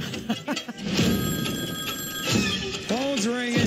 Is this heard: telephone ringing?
yes